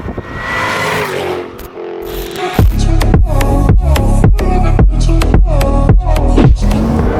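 Jaguar F-Type engine heard from inside the cabin, loud and close, first a smooth rising drone, then a rapid series of sharp rev pulses or gearshift bursts in rhythmic succession.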